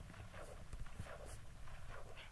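Horses in the LokiCraft video game, heard as soft repeated clip-clop hoofbeats and snorting in an uneven rhythm over a low background hiss.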